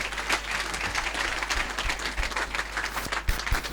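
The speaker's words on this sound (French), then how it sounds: "Clap for yourself." A church congregation claps together during a bilingual sermon, producing dense, steady applause that fills the room from close by, with a few sharper individual claps standing out.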